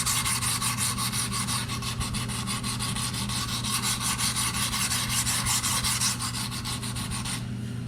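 Steady rhythmic scraping of a boning knife drawn back and forth across an oiled sharpening stone, close and continuous, the strokes running evenly with no talking until a brief stop near the end.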